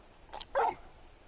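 A dog in Final Fantasy XVI gives two short yips or barks in quick succession, faint and alone against quiet background.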